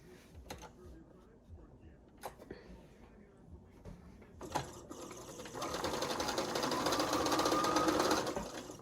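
Sewing machine stitches a seam across a 12-inch glorified nine-patch quilt block, starting with brief bursts then settling into a steady, close whirring run in the second half, with faint handling noises before it.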